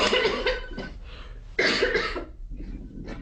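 Two bursts of harsh, wet coughing, close and loud, separated by a short pause, with a fainter cough trailing at the end.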